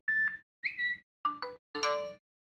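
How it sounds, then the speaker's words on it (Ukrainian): A smartwatch notification tone: four short synthesized chime notes play in sequence with brief pauses between, a clean electronic alert heard close up and fairly soft. "вибір мелодії на повідомлення"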